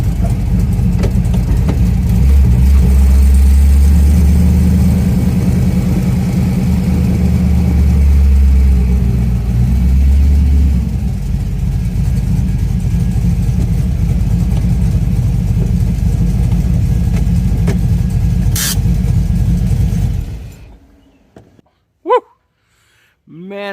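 Car engine pulling hard on a test drive, a loud, steady low rumble that holds for about twenty seconds and then cuts off abruptly, leaving brief faint sounds at the end.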